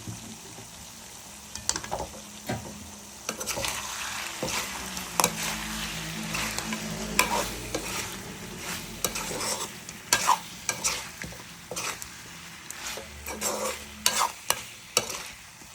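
Chicken uppu kari with pepper powder is stirred and tapped in a pan, a spoon scraping and knocking against the metal in irregular bursts over a low, steady sizzle of frying.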